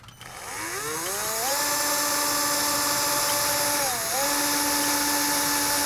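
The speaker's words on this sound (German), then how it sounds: "jetzt ziehen wir mal mit dem Bohrer kurz an, damit wir auch genau wissen, wo das Loch ist" A power drill whines steadily while drilling a hole during a motorhome build, spinning up with a rising pitch, holding a loud, even tone, briefly dipping and then running on.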